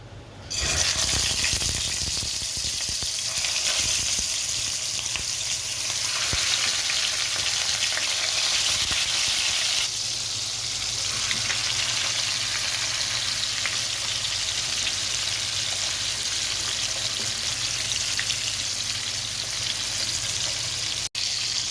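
Fish fries in oil on a tawa with a dense, continuous sizzle and crackle that holds steady throughout, with occasional soft shifts as the pieces are turned.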